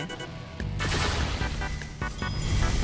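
Gunfire from a new gun in Blox Fruits, rapid booming shots in a quick burst over game background sound, loud and close.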